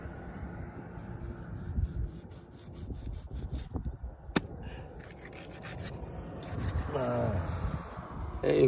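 Wood being cut with a hand saw along a road to Upper Siang, giving steady back-and-forth rasping strokes at moderate volume, with brief knocks and some nearby background activity.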